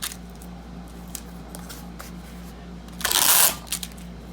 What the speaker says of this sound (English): pull that tightly and tape across the center of the box